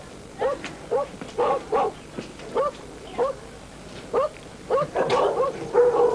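Several dogs near the China border in Hong Kong bark repeatedly in short, loud outdoor bursts, some yelping and whining between barks, with no talk over them.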